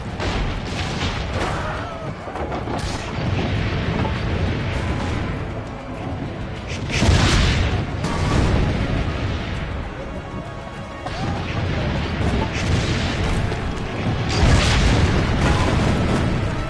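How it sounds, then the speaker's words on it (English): Cannon fire booms in the video game Assassin's Creed Brotherhood: two heavy, loud blasts stand out from a continuous roar of battle noise. "Load the cannon."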